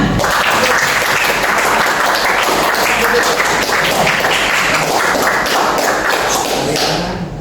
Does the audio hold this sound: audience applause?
yes